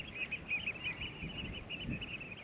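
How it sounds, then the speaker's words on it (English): Water birds, ducks or geese, calling along the River Blyth, a series of nasal honking calls repeated at a moderate distance over a low background of wind and water, with no talking. "The bird life is amazing here."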